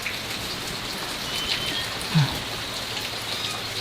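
Steady rain falls outdoors over a garden area during a rainy spell, a constant close hiss of drops with no talk.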